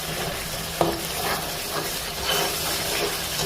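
Bay leaves drop into hot oil with a very spicy masala for a chicken curry, giving a dense steady sizzle and hiss with one sharp clink near the start and no speech.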